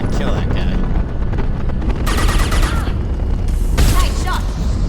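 Gunfire and booming impacts in Mass Effect 2, loud and dense, with bursts of shots and explosions packed across the passage. Game voices are mixed in beneath the combat noise.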